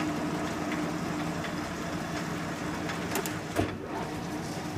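A 13 by 20 inch LeBlond engine lathe runs a threading feed with its half nut engaged, giving a steady, loud mechanical drone and whir with a faint knock near the end.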